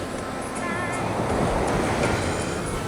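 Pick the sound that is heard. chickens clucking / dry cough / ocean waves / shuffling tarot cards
ocean waves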